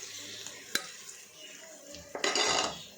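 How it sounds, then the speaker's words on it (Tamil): Ginger-garlic paste is sautéed in a pan for homemade chicken biryani: a sharp utensil clink, soft stirring, then a bright, close sizzling surge as the paste hits the hot oil. "இஞ்சி பூண்டு பேஸ்ட்டு நல்லா பச்சை வாசம் ஸ்மெல் போகிறதுக்கு நல்லா நம்ம வதக்கி விட்டுக்கலாம்."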